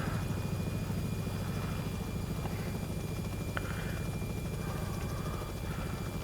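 Robinson R66 helicopter in X-Plane 11 flight sim, a steady droning rotor and turbine hum filling the whole stretch at constant low loudness, with no voices.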